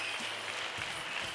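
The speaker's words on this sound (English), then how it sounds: "His fans cheering for him." A gymnastics arena crowd at a World Challenge Cup applauds and cheers a male gymnast, a thick, sustained wash of clapping with a few sharper claps rising above it.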